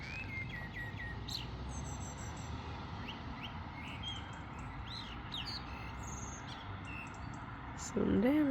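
Birds chirping outdoors in the early morning: scattered high tweets and short whistled calls over a steady insect-like hiss, with a louder nearby call near the end.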